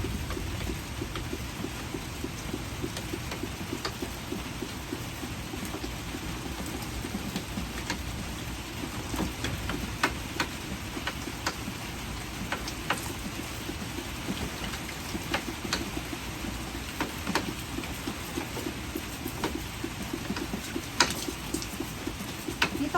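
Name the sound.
rain falling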